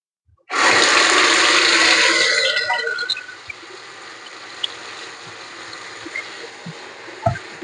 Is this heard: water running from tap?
yes